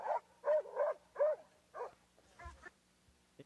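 A dog barks in a run of about five sharp, fairly loud barks, followed by some fainter scuffling and a brief yip near the end, with no talk over it.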